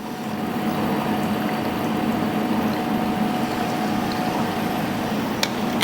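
Liquid poured into a small business machine, a steady rushing, bubbling pour that runs continuously and close for the whole stretch, with a faint click near the end and no talk.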